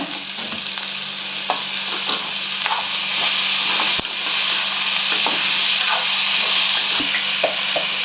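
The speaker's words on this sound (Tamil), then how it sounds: "தக்காளி போட்டு இது கொஞ்சம் நேரம் வதக்குங்க" Loud continuous sizzling of tomatoes frying in a pan, with occasional clicks and scrapes of stirring over the steady hiss.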